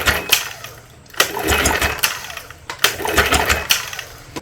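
1972 Johnson 9.5 outboard engine being turned over slowly with a wrench, repeated rough mechanical ratcheting and grinding strokes in two or three close, loud cycles.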